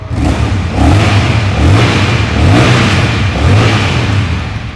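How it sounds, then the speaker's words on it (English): A 2021 Honda CMX1100 motorcycle with its 1100cc engine and stock pipes revs loud and close, three or four throttle blips rising and falling in a steady rhythm with a deep, grunting exhaust note and no talking. "I wanted you to have a listen to the brand new 1100cc engine that these models come with"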